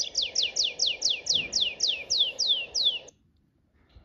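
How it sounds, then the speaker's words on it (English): Tree pipit singing a fast trill of about eleven descending whistled notes repeated evenly over three seconds, clear and close against faint background, then stopping abruptly. "Tree pipit."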